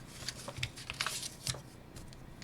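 Rubber Game Boy Advance button pad rubbed back and forth on a sheet of paper, making a soft, quiet scratchy shuffling with irregular strokes, heard alone.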